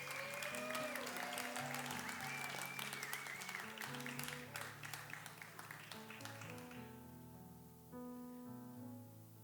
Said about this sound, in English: give a big round of applause for all of our contestants